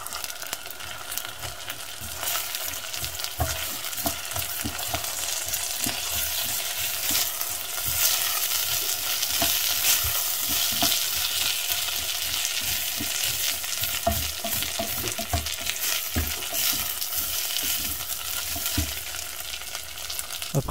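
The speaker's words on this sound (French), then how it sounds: "Une fois que les oignons ont un peu cuit, j'y verse le riz lavé au préalable" Washed rice being stirred into softened onions in a pan, giving a continuous sizzle with repeated scraping and stirring strokes for about twenty seconds, close and moderately loud.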